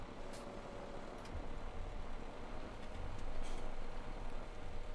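Snow crunching and hissing under a vehicle's tires in Farming Simulator 17 during snow removal on the Emerald Coast USA map, a broad steady rush that swells slightly, with a faint engine beneath and no talking.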